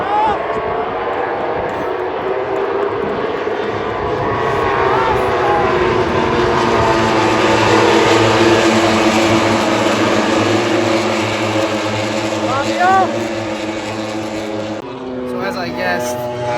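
MotoGP motorcycles circle the Aragon track on a warm-up lap, a loud, continuous engine roar that swells and fades as the bikes pass, heard from the stands with voices mixed in underneath.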